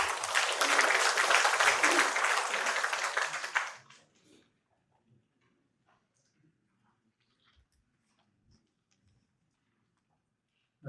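Audience applause at a memorial ceremony in Incheon marking the 14th anniversary of President Kim Dae-jung's death, a loud, steady burst of many hands clapping that cuts off after about four seconds into near silence.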